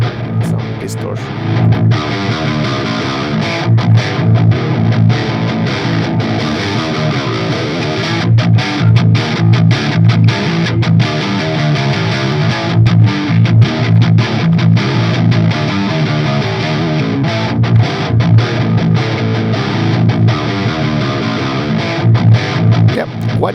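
A heavily distorted electric guitar plays continuously through an amp plugin on Linux, gritty and saturated, with steady loud metal chords and notes throughout.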